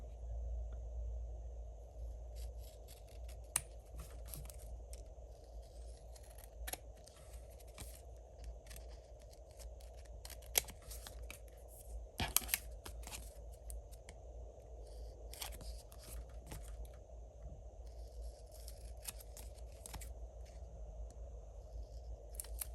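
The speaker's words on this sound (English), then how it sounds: "Let's grab my scissors." Quiet, scattered snips and clicks of scissors cutting paper over a low steady hum, with a few sharper cuts spaced irregularly.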